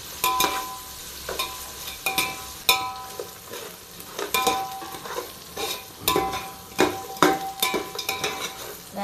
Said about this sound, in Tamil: பிடிச்சிக்கிட்டே கிண்டிகிட்டு இருக்கேன்